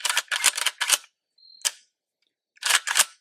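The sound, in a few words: trigger pull on M10X-P PRO pistol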